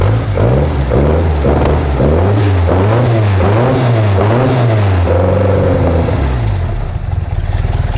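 An Alpine car engine idling just after ignition timing adjustment, still a little cold and idling low: a steady, close, loud mid-pitched running note with slight rhythmic wavering, heard alone without talk.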